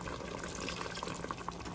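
Water pours steadily into a cooking pot of Jamaican oxtail, a continuous splashing gush with small bubbling plinks on top.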